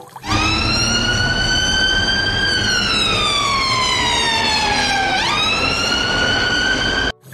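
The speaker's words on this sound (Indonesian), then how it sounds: "Yang ini mobil ambulan warna kuning." A yellow toy ambulance sounds a loud, continuous electronic siren with a wavering tone that dips briefly in pitch near the end, then climbs back before cutting off abruptly; no voices.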